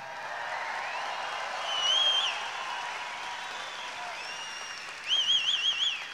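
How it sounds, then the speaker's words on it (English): A concert crowd at a show in Amsterdam in 2019 gives sustained applause, a dense wash of clapping with loud whistles rising above it near the end. "I've had enough applause to last me a million lifetimes."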